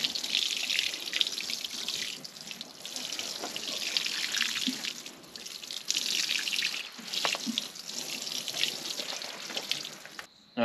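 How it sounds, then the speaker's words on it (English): Water poured from buckets onto cucumber plants in a garden bed, a continuous splashing and trickling stream with small surges and brief pauses, heard close and alone. "So we take this water and put it in them cucumbers"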